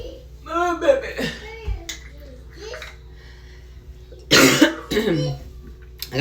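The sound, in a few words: coughing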